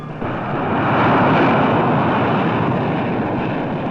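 A jet engine roars steadily at an aviation factory's testing ground, a loud, dense, continuous rumble that holds constant throughout.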